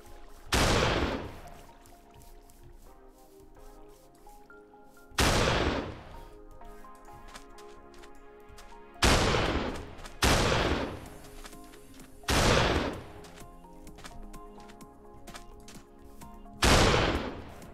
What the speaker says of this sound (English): The sound plays after the gun fires.